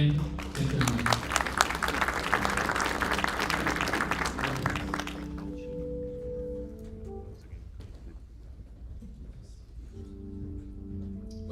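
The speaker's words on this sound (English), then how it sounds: "We can applaud again" An audience applauds at a live-streamed event, a dense burst of clapping for about five seconds that then fades out, leaving steady tonal hum and faint room sound.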